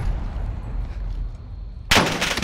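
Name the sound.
gunfire in the video game Call of Duty: Warzone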